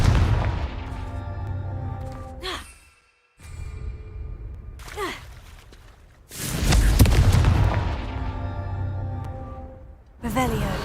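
Confringo spell blasts in a Harry Potter video game, heavy booming explosions with long rumbling tails, several loud bursts separated by brief quiet gaps.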